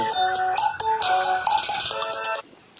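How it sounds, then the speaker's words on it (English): A phone ringtone plays a bright, repeating electronic melody, then cuts off abruptly near the end, leaving quiet. "Let me stop this phone from ringing right quick"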